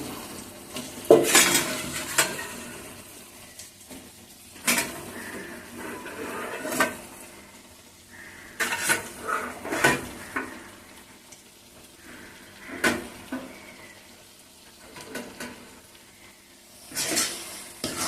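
Cucumber pieces being added to softened tomato curry in a pan, with repeated sharp clinks and scrapes of a spoon against the pan during stirring over a soft background sizzle, coming in intermittent bursts.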